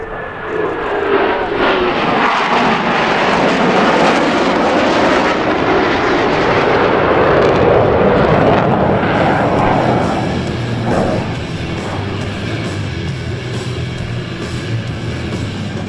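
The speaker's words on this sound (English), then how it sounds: "Formation for another dynamic separation maneuver, the low brake cross." U.S. Navy Blue Angels jets performing a low break cross at the 2017 New York Airshow: a loud, close jet roar swells and sweeps past for about ten seconds, then fades to a distant rumble.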